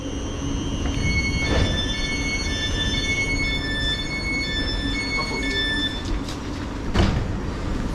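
A train pulls out of Potters Bar station on the East Coast Main Line, with a steady rolling rumble, high squealing wheel tones and occasional clunks, heard from on board at close range.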